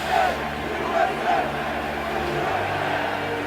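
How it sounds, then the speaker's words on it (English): Yankee fans in a packed ballpark chant "USA" in a loud, rhythmic roar that swells in repeated bursts over a broad crowd din. "The crowd just erupts in a chant of USA."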